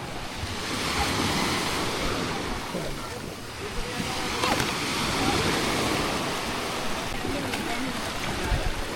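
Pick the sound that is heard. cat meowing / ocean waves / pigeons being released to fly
ocean waves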